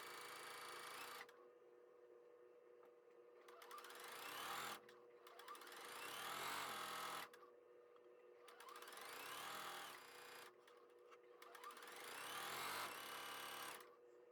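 A sewing machine runs in three steady bursts of stitching along a quarter-inch seam on a quilt block, each run several seconds long with short pauses between, loud and close with no talking.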